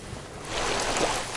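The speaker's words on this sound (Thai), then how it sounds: "นั่นก็คือที่น้ำตกขาอ่อนหรือว่าน้ำตกทับมอนนะคะ" Khao On waterfall in Prachuap Khiri Khan rushes with a broad, steady hiss of falling water that swells slightly louder midway through the short stretch.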